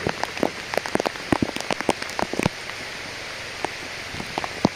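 Rain patters on a nearby surface, with irregular sharp drips and taps over a steady hiss, denser at first and thinning toward the end.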